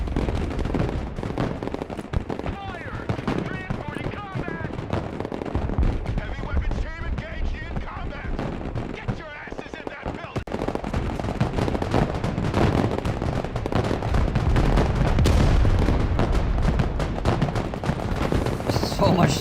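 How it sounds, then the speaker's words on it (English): Dense small arms gunfire in the military strategy game Broken Arrow, with rapid overlapping shots and bursts that run steadily throughout, loud and close, while artillery rumbles and a voice talks at times. "So much small arms fire over here."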